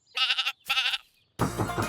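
Cartoon sheep bleat twice in quick succession, bright and wavering, close and loud, and then a burst of broadband farmyard noise follows.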